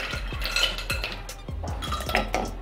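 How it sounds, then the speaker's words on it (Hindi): Ice cubes dropped into a blender jar holding strawberry milk clatter in a rapid series of hard clinks and knocks, about seven distinct impacts, close and fairly loud, with no speech. "अब इसके अंदर आइस क्यूब डालेंगे।"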